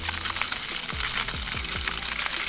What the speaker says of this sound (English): Hot oil going down with the skin side fish first.